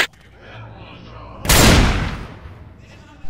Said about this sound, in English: God damn it, stop shooting!